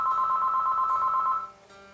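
A telephone rings once, a steady bright electronic trill lasting over a second before cutting off, fairly loud and alone, heard in a guitar workshop.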